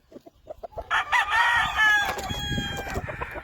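White-legged Kelso gamecocks on an Oklahoma farm crow loudly and close, one long drawn-out crow over a background of clucking and other fowl noises, with short calls before it.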